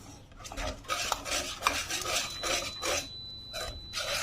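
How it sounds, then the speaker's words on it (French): Milk being stirred into a béchamel sauce with onions in a pot, a utensil scraping and rubbing in uneven bursts close by, with no talking. "Après je vais rajouter du lait et je mélange."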